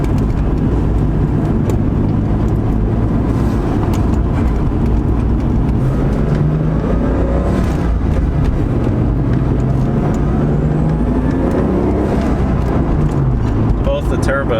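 A Mk4 Toyota Supra pulls under way with its engine drone and road rumble rising and falling through gears, heard from inside the cabin under frequent talking.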